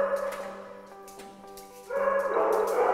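A dog gives a short, close, whining yip and bark, a couple of tonal vocal bursts with a louder one near the end and no talking.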